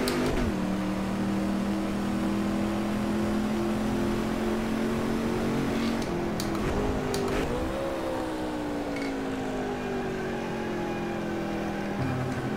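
A racing car's engine drones steadily through a lap in a driving video game, holding a sustained tone that rises and dips as it shifts and accelerates, loud and close with no talking.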